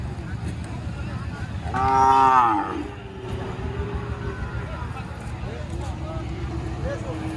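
At a busy cattle market in Rustampur, Rajshahi, where Sahiwal cattle are sold, a nearby cow lets out one long, loud moo. A constant crowd murmur and people talking continue underneath.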